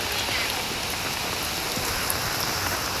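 Steady rain falling at a night market, a dense even hiss of drops hitting a surface, continuous and fairly close, with no voices.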